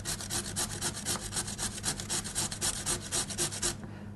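Food is grated on a hand grater in a cooking safety lesson: rapid, rhythmic rasping strokes, close and loud, repeating steadily for several seconds before stopping abruptly near the end, with no talk.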